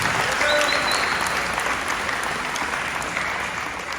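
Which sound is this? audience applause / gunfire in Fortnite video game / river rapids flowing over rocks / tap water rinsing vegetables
audience applause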